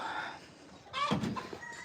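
Chickens cluck and squawk in a short burst over a soft farmyard background, fairly close and moderately loud.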